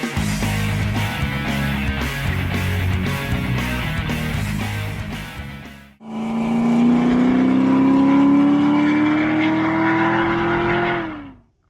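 A 1978 Porsche 928 with automatic transmission, parked in a garage, idles with a steady rumble, then cuts out briefly before restarting and climbing smoothly in pitch as it revs, loud and close.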